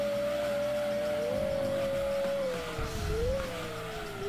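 A steady synthetic car engine whine from the video game Gran Turismo 2 holds a constant tone, dipping and rising slightly in pitch over a low rumbling background, continuous and fairly loud.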